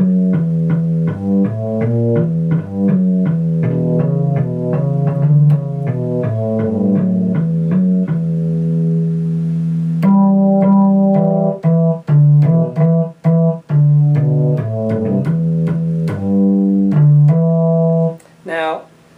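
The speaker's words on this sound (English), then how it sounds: "sample 33, which is an upright bass, and that sounds like this." An upright bass sample played on a YRG Gen2 LE guitar synth plucks a steady run of deep, resonant notes, loud and close, with a brief higher chord flourish near the end.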